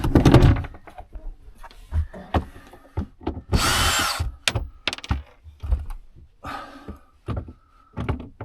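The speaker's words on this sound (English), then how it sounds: "Now we need to get these screws out in here." Screws being driven out of panels inside a tour bus under conversion, heard as a series of short, close power-drill bursts with one longer whirring spell, separated by clicks and handling knocks.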